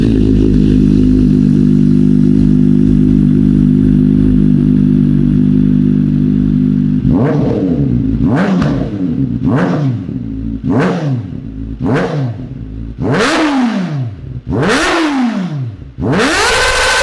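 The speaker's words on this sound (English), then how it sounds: "let hear the Akrapovic exhaust by Kawasaki Ninja ZX-4RR" A 2023 Kawasaki Ninja ZX-4RR with an Akrapovic exhaust runs close and loud. A steady, droning idle lasts several seconds, then about eight sharp throttle blips rise and fall in quick succession.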